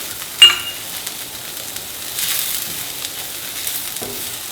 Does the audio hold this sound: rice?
yes